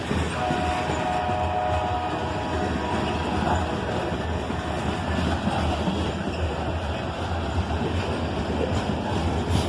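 A mixed manifest freight train rolls past close by, a loud, continuous rumble and rattle of wagons with a brief horn-like tone near the start.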